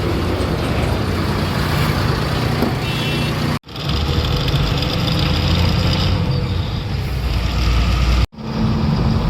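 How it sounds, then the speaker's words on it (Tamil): A truck drives along a road with a stone lodged in its tyre, giving a steady loud engine and road roar with low rhythmic thudding, broken by two brief dropouts. "எங்கேயே டயரில் ஒரு கல் இருக்குது டபு டப்புன்னு சவுண்டு போட்டுன்னு வருது"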